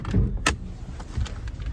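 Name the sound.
Nissan Maxima hood being popped open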